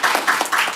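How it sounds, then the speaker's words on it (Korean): Applause from a panel audience at a Korean forum on digital transformation in agriculture, as a speaker from the IT industry is introduced: a brief, dense patter of clapping hands filling the room, steady and fairly loud. "박수로."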